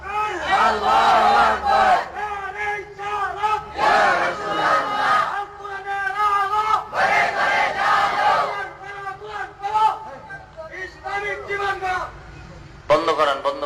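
A crowd at a political gathering chants slogans in loud, rhythmic bursts of massed voices, repeated call-and-response waves with short gaps between each shout.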